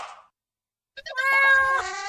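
A cat in the You Don't Know Jack trivia video game lets out one loud, drawn-out meow right after a brief sound and a short silence.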